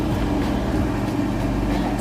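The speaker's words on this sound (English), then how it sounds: "Sorry about the fan." A kitchen fan running near a stovetop pot of daikon soup with pork, tofu and kimchi, giving a steady broadband hum and whoosh with low droning tones, constant and fairly loud.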